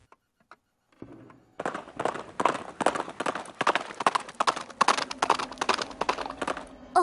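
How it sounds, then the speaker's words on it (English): Horse hooves clip-clop in the PC hidden-object game I Spy: Spooky Mansion, a brisk, steady run of sharp hoof knocks that starts after a few soft taps and continues loudly and evenly to the end. "A horse."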